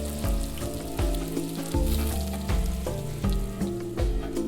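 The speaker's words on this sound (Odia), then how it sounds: "ଚିକେନ ଯେପର୍ଯ୍ୟନ୍ତ ସବୁ ପାଣି ନ ବାହାରି ଯାଇଛି ସେ ପର୍ଯ୍ୟନ୍ତ ଚିକେନକୁ ଭଲ ଭାବରେ କଷନ୍ତୁ" Chicken pieces fry in a hot pan for biryani, a loud, steady sizzle with rhythmic bursts as the meat is stirred and turned.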